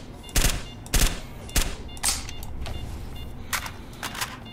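Gunfire in the shooter game STALKER: The Lost Alpha, several sharp loud bursts in quick succession followed by a few softer, more distant shots, with no talking.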